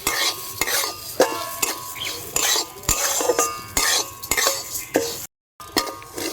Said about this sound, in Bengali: চালটা সামান্য ভেজে নেব।